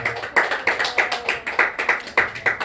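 A church congregation claps together in a steady, even rhythm, about nine crisp beats in quick succession.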